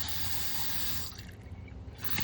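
Fresh water running steadily from a washroom tap through a newly fitted EcoPure pleated water filter, a constant close hiss of flow that thins and softens briefly partway through before picking up again.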